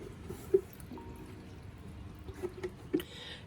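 Water trickles and pours quietly from a watering can into the soil of a calathea houseplant indoors, faint and close, with a few soft drips and clinks.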